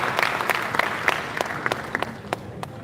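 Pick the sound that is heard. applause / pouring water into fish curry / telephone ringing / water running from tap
applause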